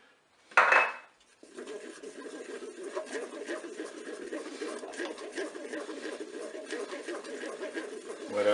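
Chocolate praline spread being stirred with a utensil inside a Cookeo multicooker, a steady scraping and clinking texture running throughout after a brief louder clatter at the start.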